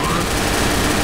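Rapid automatic gunfire in the zombie shooter Left 4 Dead, a loud, dense burst filling a brief moment.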